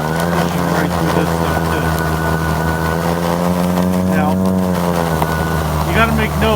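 A Snow Joe iON24SB-XR 80V cordless self-propelled two-stage snow blower pushes through deep snow, its electric motor and auger making a steady loud drone with a rising whine, while a person talks over it.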